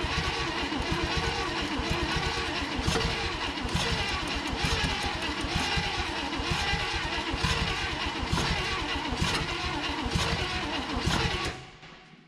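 A 1960 Chevrolet Impala engine, abandoned for 38 years and with uneven compression between cylinders, cranks over on the starter in a loud, lumpy, rhythmic churn that runs steadily for about eleven seconds before abruptly stopping.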